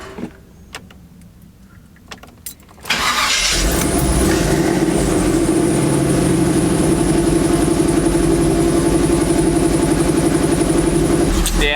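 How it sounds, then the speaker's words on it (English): A car engine with a failing muffler starts up after quiet handling noises and settles into a loud, raspy, continuous rumbling idle close to the listener. "my muffler sounds so terrible now"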